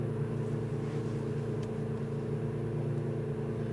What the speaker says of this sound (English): We do have a car coming from our right, actually possibly 2.